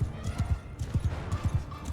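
A horse galloping in the video game Mount & Blade II Bannerlord, a steady rapid drum of hoofbeats heard close under a noisy battle ambience.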